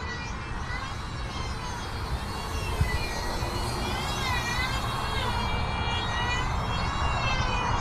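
XFly T-7A Red Hawk 64mm EDF radio-controlled jet on its landing approach, heard as a steady, high whooshing ducted-fan whine with slowly wavering pitch throughout, moderately distant, with a voice faintly present.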